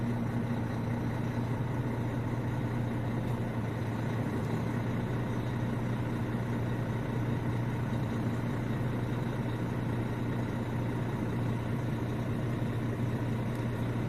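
A Renault Trucks DXI 450 truck engine with a clutch control fault idles steadily, a close, constant low rumble with no talking over it.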